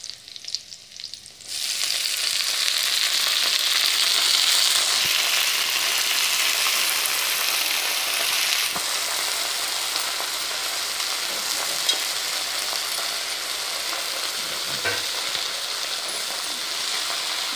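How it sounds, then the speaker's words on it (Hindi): Red amaranth greens hit a pan of cooking onion and green chilli and start frying, an abrupt loud hiss that settles into a steady close sizzle, with a few faint clinks of stirring. "थोड़ा पकने पर हम अपना लाल भाजी इसमें डाल देंगे।"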